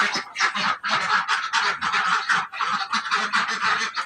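A flock of ducks quacks and honks continuously, loud and close, with overlapping calls forming a dense, busy chorus and no talking.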